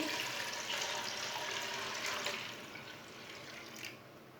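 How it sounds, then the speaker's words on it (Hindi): A steady stream of water, about four glasses, gushes into a pot of washed chana dal, a close, hissing pour that gradually softens as it fills. "चार गिलास पानी डाल लेंगे"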